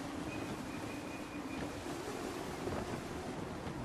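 Wind and surf rush steadily around a sailing ship at sea in Assassin's Creed 3, a dense, even wash of water and gusting air with a faint sustained tone riding over it.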